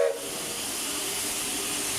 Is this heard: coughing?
no